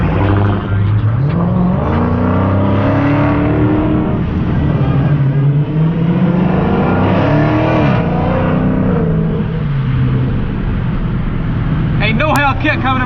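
A group of about five cars drives off together, engines revving and rising in pitch through gear changes, loud and close, with people talking and shouting over the noise and a brief tire squeal near the end.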